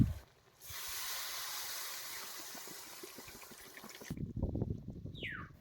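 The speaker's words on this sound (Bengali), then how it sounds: "এখন আমরা ঝোলের জন্য পরিমাণ মতো জল দিয়ে দেবো" Water poured into a pot of chicken curry cooked with coconut: a steady, hissing pour lasting a few seconds, followed by quieter bubbling and small movements once it stops.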